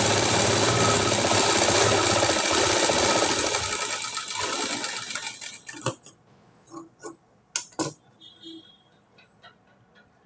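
A sewing machine runs steadily while stitching a high-neck blouse, loud and continuous for about five seconds before stopping, followed by scattered light ticks, clicks and handling noises of fabric and parts.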